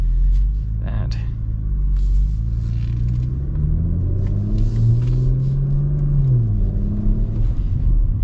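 Heard from inside the cabin of a moving 2025 Porsche Macan GTS, the engine note climbs and falls under load. Its droning tone sits over a low road rumble.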